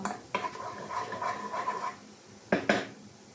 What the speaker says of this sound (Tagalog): At ilagay na natin ang sibuyas.